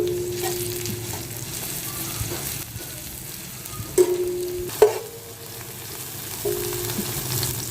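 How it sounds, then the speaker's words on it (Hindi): Chopped garlic lightly frying on a tawa for keema, a steady soft sizzle with a couple of sharp clinks of a utensil against the pan partway through. "लहसुन को हल्का सा भून लेंगे।"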